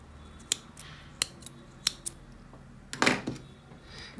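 Scissors snip yarn during knitting of a cardigan sleeve: several crisp close metallic clicks in quick succession, then a short scraping rustle, with no talk.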